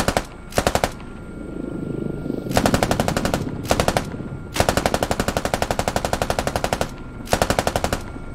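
Door-mounted machine gun on a Canadian CH-146 helicopter in the game Squad, firing several rapid bursts of varying length with short pauses between, loud and close over a steady rotor drone.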